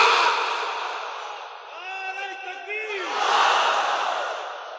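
A large crowd at an outdoor Islamic sermon roars the takbir chant together, a sustained mass of voices with a clearer drawn-out chanted line rising in the middle, loud and continuous throughout.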